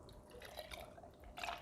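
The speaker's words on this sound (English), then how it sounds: "Pour milk" Milk poured over ice in a cup for an iced matcha latte, a faint, close, steady liquid trickle and splash with light dripping, no talking.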